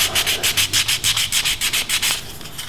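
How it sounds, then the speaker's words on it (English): Rhythmic back-and-forth sanding of wood for a wristwatch clock, about a dozen even strokes in quick succession, close and steady with no talking. "A lot of sanding."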